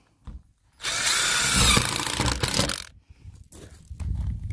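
A power drill drives a self-tapping siding screw into an electrical meter pole, one loud continuous whir lasting about two seconds, then stopping, with small clunks of handling before and after.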